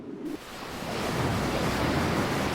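Churning ocean waves roar in a dark sea as a whirlpool forms, a steady, loud, full-bodied wash of surf and rushing water that swells after a quieter opening and holds without pause.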